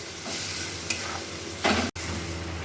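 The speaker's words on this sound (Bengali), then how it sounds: "আমি মশলার মধ্যেই চিংড়ি মাছগুলো কষিয়ে নেব" Prawns sizzle in spice paste in a pan while being sautéed, a steady close frying hiss with a brief louder burst of stirring near the end and no talking.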